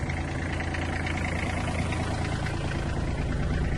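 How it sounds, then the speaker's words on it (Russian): An Iseki Geas 27 Japanese mini tractor's engine runs close by in a steady, dense, rough drone that holds the same level throughout, with no voices. "Запустим трактор. Погазуем. Трактор работает мягенько"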